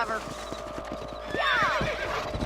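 Horses in Red Dead Redemption clopping in a quick steady rhythm of hoofbeats, with a loud neigh rising and falling midway, under a voice.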